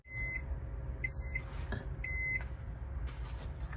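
A microwave oven in an RV kitchen beeps: three evenly spaced pairs of short, clear electronic tones, moderately loud and close, over a low background hum with no talking.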